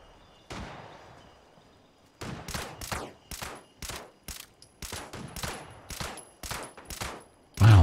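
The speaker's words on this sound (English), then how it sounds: "I'm going to let you just keep shooting this guy." Gunfire in Fallout 76: a single shot rings out and trails off, then after a pause about a dozen loud, evenly spaced shots follow in a steady rhythm, with no voices.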